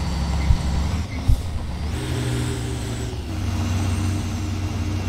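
Heavy truck in Euro Truck Simulator 2, a Mercedes-Benz LS-1634 three-axle grain hauler, with a low diesel drone, two sharp air-brake hisses early on, then the engine pitch rising and settling as it keeps driving.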